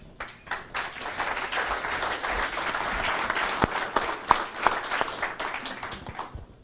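An audience at a keynote lecture gives the speaker sustained applause. Many hands clap in a steady, full wash for several seconds, with a few sharper claps standing out near the end before it quickly fades.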